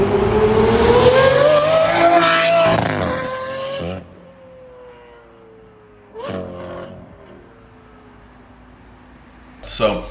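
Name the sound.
Ferrari F12 engine revving with open exhaust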